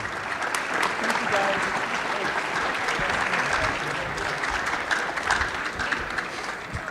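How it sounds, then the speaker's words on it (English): Sustained audience applause fills a scholarship award assembly, a steady wash of many hands clapping at an even level for the whole stretch, with faint voices mixed in. "One more round of applause for these teachers."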